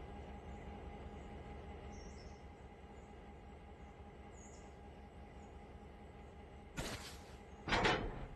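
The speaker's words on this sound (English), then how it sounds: "the brakes are still sort of engaged on this train for some reason" A train sits on the Blue Ridge Western Railroad with a low, steady mechanical hum and a faint whine, then two sharp bursts of air or metallic hissing near the end, with no speech.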